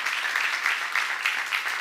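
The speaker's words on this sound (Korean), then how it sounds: "박수하세요" A church congregation claps together during a sermon, a moderately loud, even wash of hand claps with gentle swells that carries on without any voices over it.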